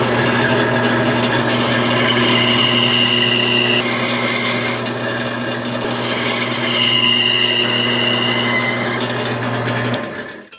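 A bandsaw cuts lines partway across a wooden board, a steady loud motor hum with sustained rasping blade noise running continuously for about ten seconds before fading out at the end.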